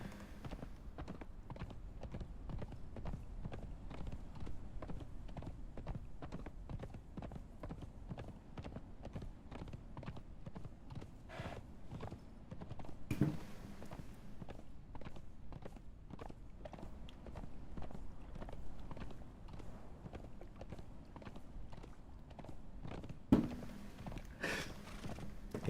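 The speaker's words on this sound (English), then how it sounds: "Can't believe I'm riding the horse." Horse hooves clip-clop in a steady, even rhythm throughout a ride in the video game Mount & Blade: Warband, moderately loud with a couple of brief mechanical clanks along the way.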